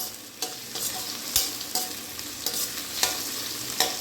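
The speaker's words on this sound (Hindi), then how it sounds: "अभी प्याज को भूनना है गोल्डन ब्राउन होने तक।" Onions fry in a pan with garlic and chillies as a steady, close sizzle, with a spoon striking and scraping the pan every half second or so in an uneven rhythm.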